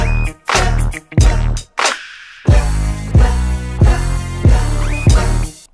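Hip-hop beat with a strings layer added over it, steady rhythmic hits with sustained tonal swells and bass pulses, loud and alone with no voices.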